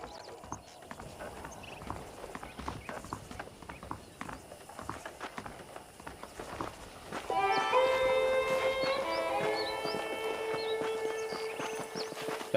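Horse hooves clip-clopping in the video game Red Dead Redemption, a soft rhythmic trot under faint ambience, joined halfway through by a swelling bright musical score.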